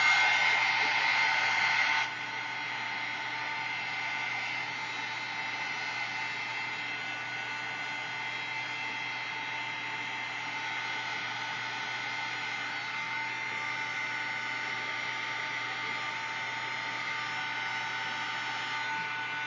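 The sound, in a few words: heat tool heating embossing on flower stencil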